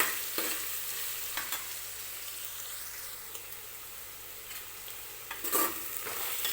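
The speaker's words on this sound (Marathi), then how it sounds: "गोल्डन रंग येईपर्यंत हा कांदा आपल्याला तेलामध्येच भाजून घ्यायचा आहे" Onion fries in oil for mutton biryani with a steady, bright sizzle, broken by a few sharper clinks and scrapes as it is stirred, close and moderately loud.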